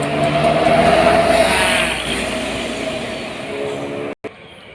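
A DMI bus passes at high speed on a curving road, a loud steady engine and tire roar that swells and then slowly fades, with a brief cut near the end.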